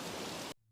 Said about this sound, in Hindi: इधर बारिश भी लगातार 4-5 दिनों तक होते ही रहती है।